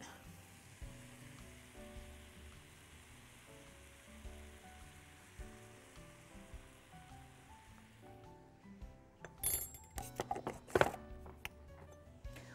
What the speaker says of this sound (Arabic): وهقلب لحد ما معلقه الدقيق تختفي تماما